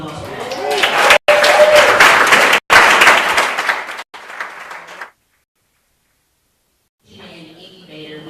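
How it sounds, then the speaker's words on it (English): Audience applause at a community talk about a planned shared-use kitchen and incubator: a loud, steady round of clapping with brief cuts, fading out before a short stretch of quiet and then faint talk. "Let's give a round of applause for that."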